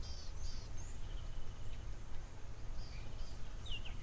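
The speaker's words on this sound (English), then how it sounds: "listening to all the different birds" Faint bird chirps and whistles from various species sound intermittently in the distance at a waterhole, over a steady low rumble, with a few different calls scattered across the scene.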